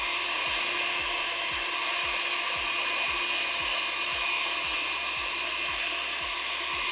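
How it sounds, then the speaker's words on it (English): A hot hair dryer blows steadily and loudly at close range while a skin wrap is applied to a POCO X3 Pro smartphone, with a faint regular ticking beneath the constant airflow roar. "this hair dryer is pretty hot"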